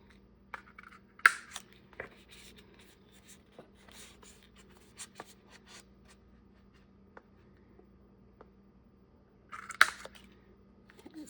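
Scissors cut paper corner pieces for an art journal, quiet close snips and rustling paper with two sharper, louder cutting bursts spaced well apart.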